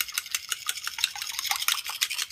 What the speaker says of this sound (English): beat the egg